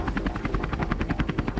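A rescue helicopter circles near the wrecked Costa Concordia cruise ship, its rotor chopping in a fast, steady rhythm, loud and close throughout with no voices.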